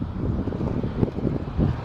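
Wind blowing outdoors around hedges and trash cans, a steady low rumbling buffet against the microphone with gusty swells throughout, no voices.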